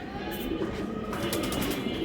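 Pigeons cooing at a pigeon seller's shop in a steady, low murmuring chorus, with a continuous bed of mixed bird noise and faint background clatter throughout.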